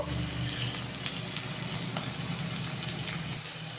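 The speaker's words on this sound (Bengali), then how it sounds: "আমি গরম তেল নিয়ে নিয়েছি আর তার মধ্যে পেঁয়াজ কুচিগুলো দিয়ে দিলাম গরম তেলের মধ্যে।" Chopped onions fry in hot oil in a home kitchen pan for a prawn masala, a soft, steady crackling sizzle with faint pops, fairly quiet and close, with no talk over it.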